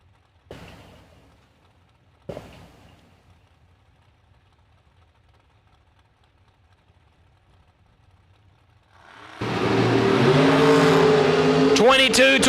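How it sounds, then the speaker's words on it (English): Dragster launching and racing down a drag strip at a winter warm-up event: near-silence broken by two sharp knocks, then a sudden thunderous, sustained engine roar dominating the final seconds. "My favorite dragster on property, paint job and all."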